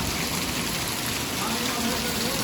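Heavy rain pours in a steady, dense hiss over a flooded village, a constant broadband roar with no pauses, close and loud throughout.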